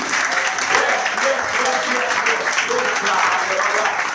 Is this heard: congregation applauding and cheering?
yes